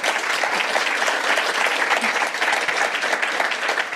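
Steady, dense applause from a seated audience thanking a panel at a food waste summit, continuous and loud throughout with no pauses.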